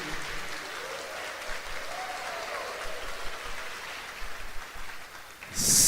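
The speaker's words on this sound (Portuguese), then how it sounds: "Pode dar uma salva de palmas para Jesus." A congregation at a Catholic Sunday Mass claps steadily in a sustained round, with a dense, rain-like texture throughout and a sharp brighter burst right at the end.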